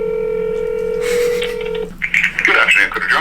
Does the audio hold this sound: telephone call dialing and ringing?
yes